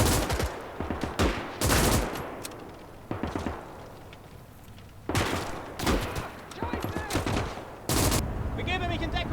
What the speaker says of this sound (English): that artillery is firing, is landing right on the southern base